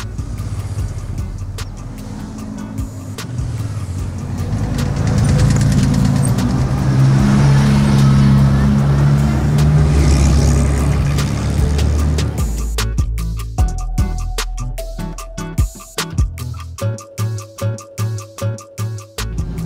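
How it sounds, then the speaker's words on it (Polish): A vintage Alfa Romeo 1750 Spider Zagato race car from the Mille Miglia rally drives past, its engine rising to a loud close roar, then fading while other engines rev and pop in rhythmic bursts nearby. "Za mną właśnie przejechała Alfa Romeo 1750 Spider Zagato."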